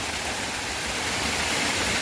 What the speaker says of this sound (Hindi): ये है गोमुख, जहाँ पे कुछ इस प्रकार से काफ़ी ज़्यादा पानी आता है